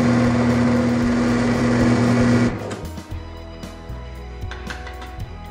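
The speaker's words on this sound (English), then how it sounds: "First, you'll need to drill a quarter inch hole in the base plate." A power drill bores a quarter-inch hole in a base plate, a loud steady motor whine for about two seconds that stops abruptly, followed by quieter handling clicks and rattles.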